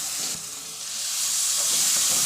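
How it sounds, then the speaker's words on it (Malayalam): Tomato paste frying with squid roast masala gives a steady, close hiss and sizzle that builds slightly and continues throughout, with faint stirring underneath. "2 തക്കാളി, അതും കൂടെ പേസ്റ്റ് ഇതൊക്കെ ആഡ് ചെയ്താൽ"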